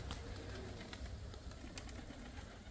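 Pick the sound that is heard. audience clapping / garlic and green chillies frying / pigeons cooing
pigeons cooing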